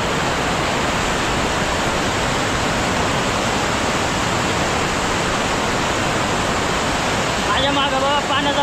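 Heavy, rushing stream water swollen by monsoon rain at Tamhini Ghat, a steady loud broadband roar filling the whole stretch, with faint voices creeping in near the end.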